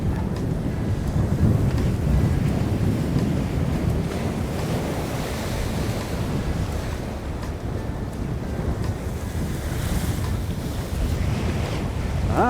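Sea waves rolling and breaking on the Northumberland shore, with gusty wind buffeting the microphone; a steady, loud, broadband roar of surf and wind runs throughout without a break.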